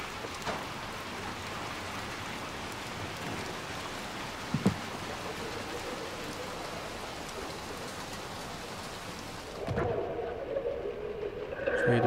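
Steady rain in the video game Little Nightmares II (chapter 4, The City) hisses evenly throughout, a dense wash of drops with a brief knock midway and a louder, rougher burst of sound near the end.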